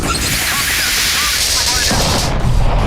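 Rapid gunfire bursts over a dense, noisy backdrop, loud and chaotic, with a heavier boom near the end.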